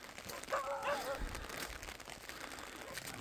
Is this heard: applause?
no